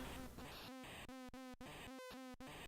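Buzzing bee in the Commodore 64 greenhouse game Smack Those Crazy Weeds: a steady synthetic drone with short chirping pulses and brief dropouts, loud and close with no voices.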